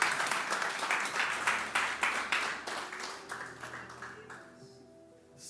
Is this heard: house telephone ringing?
no